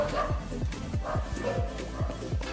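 Several dogs bark in quick, repeated yaps and yips outside a house, a steady run of sharp close barks with a voice murmuring faintly underneath.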